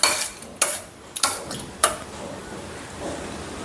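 Pav bhaji mixture is stirred in a pot, heard as a few distinct scraping clanks of a spoon against metal with quieter gaps between them.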